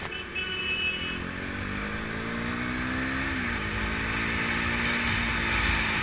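Steady KTM Duke 390 ABS motorcycle engine hum close by, with a gradual rising and falling pitch as the bike cruises, continuous and moderately loud throughout.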